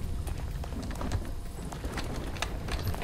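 Horse hooves clip-clopping in the video game Chained Together, a soft, steady patter of light hoofbeats repeating close by over a low background rumble.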